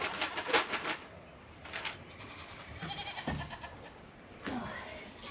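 Several dairy goats, one of them pregnant, bleat at feeding time over sweet feed and pellets, with a burst of loud overlapping cries at first and then scattered calls, near and clear.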